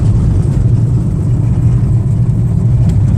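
A car drives fast along a dirt field road at nearly 60 km/h, its engine a steady low rumble mixed with continuous road and tire noise, loud and close throughout without any talk.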